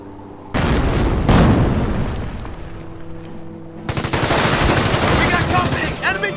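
A .30 cal machine gun fires in Company of Heroes, a World War II strategy game, as sustained loud bursts of rapid fire mixed with booming impacts.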